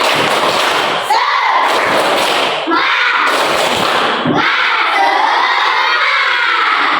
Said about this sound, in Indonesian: kita tepuk semangat dulu. Oke, tepuk semangat.